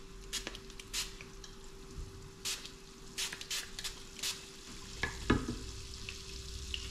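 Swordfish frying in a pan with a little balsamic, a steady close sizzle broken by short stirring and scraping bursts, with the loudest clatter near the end.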